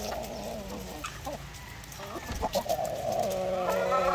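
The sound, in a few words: chickens pecking at coconut pulp feed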